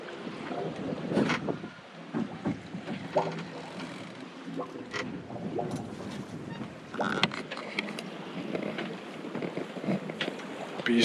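A sailboat glides along in a light breeze, with soft water washing against the hull and gusts of wind buffeting the microphone, irregular rushes rising and falling throughout.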